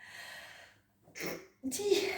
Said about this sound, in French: Alors attendez, je vais éternuer.